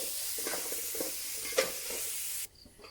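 Chopped chicken being mixed into kothu parotta in a pan, a steady sizzle with soft scraping strokes of stirring, close and moderately loud, cutting off abruptly near the end.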